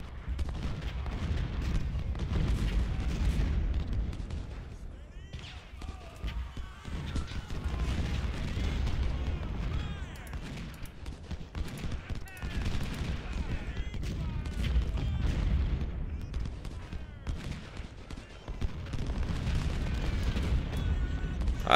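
Cannon fire in Ultimate General Civil War during the Siege of Suffolk: a dense, continuous rumble of booming artillery and scattered gunfire, heavy and unbroken throughout, with a voice speaking faintly underneath.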